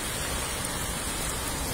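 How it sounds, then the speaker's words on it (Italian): Continuous, heavy, pounding rain falls under a leaden sky near the Bormida river bridge, a dense, steady wash of noise with no breaks and no voices. "Il cielo è plumbeo, la pioggia è continua,"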